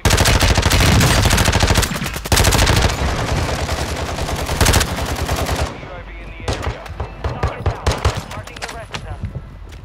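Rapid automatic gunfire from a shooter video game, loud and dense with sustained bursts that give way to sparser separate shots, while players talk over it.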